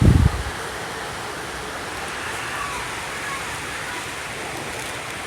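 Steady rain falls outdoors in a broad, even hiss that continues without pause after a brief louder knock at the start.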